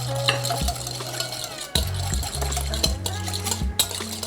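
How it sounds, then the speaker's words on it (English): A whisk stirring fresh garlic, cracked black pepper and salt in a bowl, rapid close clinking and scraping in uneven bursts with sharp taps against the bowl's side. "fresh cracked black pepper, and salt. Whisk that together."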